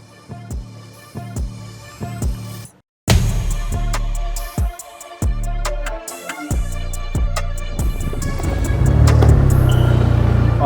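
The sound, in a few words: Ford Mustang Dark Horse running on a dyno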